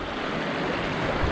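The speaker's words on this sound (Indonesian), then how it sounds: "Ada sungai kayak gini." A river flows through a forest near the Plunyon area at Kaliurang, a dense steady rush of water with no talking, loud and close.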